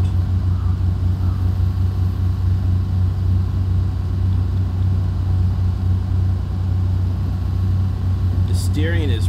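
Continuous low droning from a Land Rover Defender 90's engine and exhaust in the SnowRunner driving game, holding steady and close, with a brief voice near the end.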